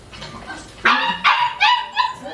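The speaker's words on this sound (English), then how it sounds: "Barking." A dog barks four times in quick succession, loud and close, each bark sharp with a bright harmonic yelp, over a faint background hum in a home kitchen.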